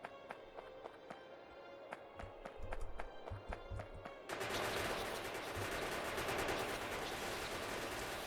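Gun turrets in the game Factorio fire bullets, first in evenly spaced rapid bursts over quiet game sounds, then a dense continuous volley of gunfire that fills the second half.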